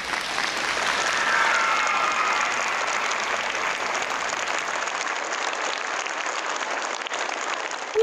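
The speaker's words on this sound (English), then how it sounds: "could you please stand for a round of applause?" A school audience applauds teachers, counselors, custodians and administrators at a Mississippi educator award assembly, a steady, dense wash of many hands clapping that holds for the full stretch, fairly loud and close, with no talk over it.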